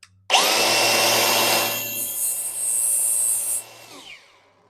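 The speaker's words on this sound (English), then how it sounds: "I'm just going to fire the grinder up, and I'm just going to carefully touch on the flappy disc" Angle grinder with a flap disc knocking sharp edges off a clutch spring, spinning up abruptly to a loud close high whine, its pitch shifting as the disc bears on the metal, then winding down and fading after about four seconds.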